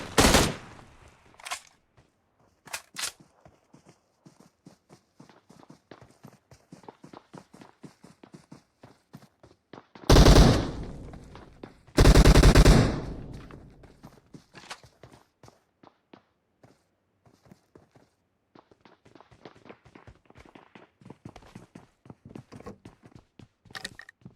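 Gunfire in a PUBG Mobile fight, with two loud, dense bursts of automatic fire near the middle, set among scattered footstep-like clicks and faint game noise in a quieter stretch before and after.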